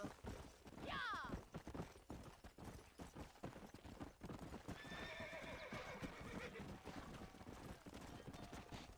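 Horse in the Red Dead Redemption video game trotting with steady clip-clop hoofbeats and letting out a whinny, mixed with game ambience and background talk.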